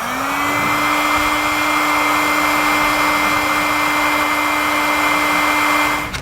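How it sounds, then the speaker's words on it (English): A heat gun runs steadily at close range, shrinking heat-shrink tubing onto a trailer wiring connection. Its strong, even fan whine with a constant tone holds for about six seconds and then cuts off, with no talking over it. "And then we can use a heat gun to shrink that down."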